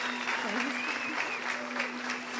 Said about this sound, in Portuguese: Uma salva de palmas para os irmãos de vocês